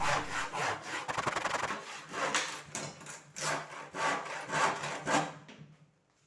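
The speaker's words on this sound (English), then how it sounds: "cutting them down to length with a handsaw" A handsaw rasps through wood in steady back-and-forth strokes, close and fairly loud, ending in a brief quiet moment.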